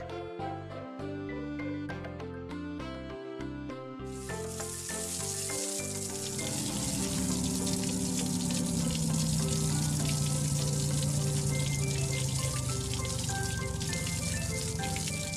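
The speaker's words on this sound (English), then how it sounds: "Look, Lifty is having a shower." Water spraying from a cartoon water truck's shower, a steady loud broadband hiss that surges in after a few seconds of bright musical notes and continues under a sustained tune.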